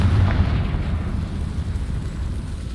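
A Confringo spell explosion in Hogwarts Legacy, heard as a loud, sustained low rumbling boom that rolls on without fading, with no voices over it.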